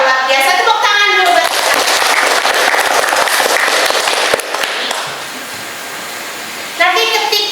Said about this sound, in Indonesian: Luar biasa, tepuk tangan dulu.